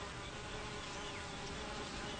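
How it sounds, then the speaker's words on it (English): Honeybees hum in a dense, continuous buzz at the entrance of their hive, a close and steady drone of many wings with no other sounds. "Worker bees stand guard at the entrance of the hive, keeping out bees from other hives."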